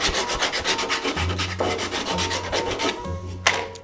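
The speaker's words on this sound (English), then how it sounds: "we can also sand it a little bit to make all those nasty splinters go away" Hand sanding of a simple wooden sailboat hull to remove splinters, a close, steady rhythmic scraping rub with short repeated strokes and a brief sharper scuff near the end, no voices.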